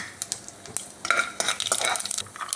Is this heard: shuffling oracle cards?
no